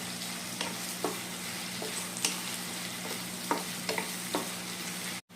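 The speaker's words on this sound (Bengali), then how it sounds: "আর এখন এর উপর দিয়ে নেব একটা তেজপাতা আর একটা শুকনো লঙ্কা।" A bay leaf and a dried red chilli sizzle in hot oil over onions for chicken kala bhuna, a steady close crackling hiss broken by sharp spatter pops, no talk.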